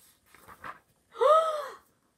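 A person imitates a deep, slow snore with a drawn-out, rasping, voiced breath, preceded by faint breathy sounds, heard alone and close.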